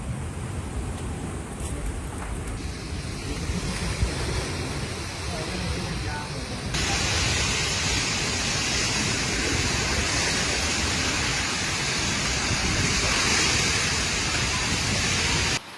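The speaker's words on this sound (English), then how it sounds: "heavy rain, hailstorms and violent gusts of wind that flooded squares, streets and underpasses" Strong storm with heavy rain, hail and violent wind gusts around Como and Cantu, Italy, a dense continuous roar of downpour and rushing wind that swells louder about halfway through.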